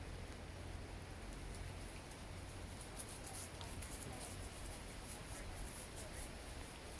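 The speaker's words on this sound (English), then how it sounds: "As the rain is coming down" Rain coming down as a steady, even hiss of falling drops with soft patter, continuous and fairly faint, no clear voice on top.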